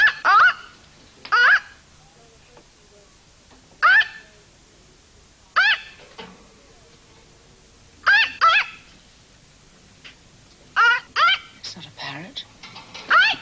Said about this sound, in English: Sounds like a parrot.